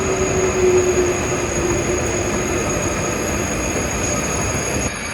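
Trains at a railway station: a continuous loud rumble of rolling rail cars with a faint high wheel squeal and a steady tonal whine, heard alone without voices.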